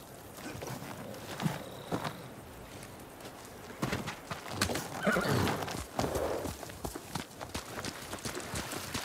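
Horses neigh and whinny several times over hoofbeats clattering at a trot, with scattered thuds and movement sounds, fairly close, in the video game Ghost of Tsushima.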